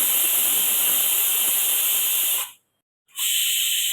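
A pressure cooker full of khichdi vents steam in a loud, steady, close hiss that cuts off abruptly, leaves a short silence, then resumes; no voices are heard.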